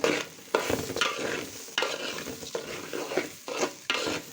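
Rice being fried with biryani masala for a beef biryani, the stirring scrapes of a spatula coming in regular strokes over a soft sizzle, close and fairly quiet, with no voices.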